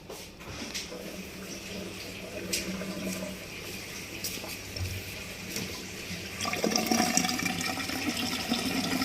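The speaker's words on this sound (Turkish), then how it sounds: "Suyu bir açayım." Water turned on and rushing through a leaking drain pipe that a rat has gnawed, a steady broad wash that swells louder toward the end, with faint background noise and no clear talk.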